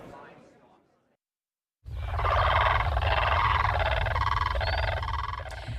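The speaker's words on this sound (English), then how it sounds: "That is the call of South Africa's national bird." A blue crane, South Africa's national bird, gives loud, continuous rolling calls in a rhythmic series over a steady low rumble, after a short quiet gap.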